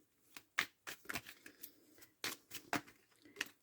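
Oracle cards are shuffled and cut by hand in a series of quick, crisp riffles and slaps, about a dozen distinct bursts with short gaps between them, close and fairly quiet with no talking.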